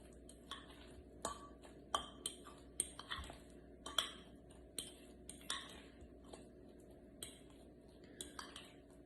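A spoon clinks and taps against a bowl while avocado sandwich filling is mixed, producing a quiet, irregular series of sharp metallic knocks over soft scraping, with no talking.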